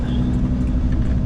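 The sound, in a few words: car gearbox whining while driving off-road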